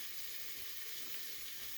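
Onions fry in a hot pan with a faint, steady sizzle and crackle, continuous and close, with no talking.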